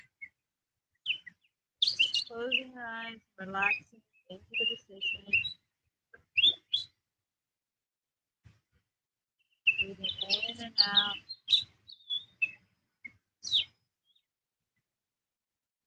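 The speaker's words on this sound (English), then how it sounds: "Maybe you can find a bird and focus on the bird." Small outdoor birds chirp faintly in the background while a calm voice gives slow relaxation and breathing instructions, with quiet pauses between phrases.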